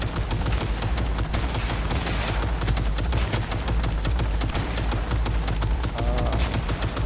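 Rapid machine gun fire in Cyberpunk 2077 played on a PS4 Slim, dense repeated bursts of shots close up over a steady low background rumble, with no talking.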